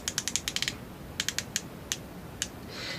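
A plumping lip balm tube's twist-up delivery mechanism, MAC Squirt or Essence Juice Bomb style, gives a run of quick close plastic ratcheting clicks in bursts, then a few spaced single clicks, faint and alone.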